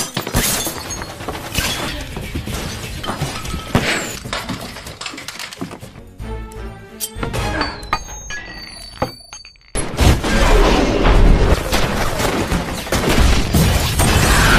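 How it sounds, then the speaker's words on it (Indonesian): A house in an action-comedy film is destroyed by an explosion, heard as a dense barrage of shattering, crashing blasts. A brief quieter stretch follows before a louder, booming burst. "rumah mereka pun hancur akibat ledakan yang terjadi"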